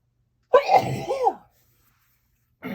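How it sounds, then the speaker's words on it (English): A single sharp, close sneeze bursts out indoors and trails off, followed by a short silence before another sound begins. "oh, I feel a sneeze coming on."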